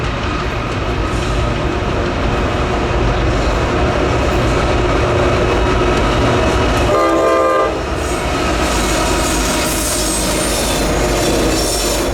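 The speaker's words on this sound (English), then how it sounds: "the next train did eventually show up with a boring C6M in the lead, but a nice ace trailing second" A freight train led by a C6M locomotive rolls past at close range in Altoona, Pennsylvania, with a loud continuous roar of wheels and cars, a horn blast and squealing wheels, heavy and unbroken throughout.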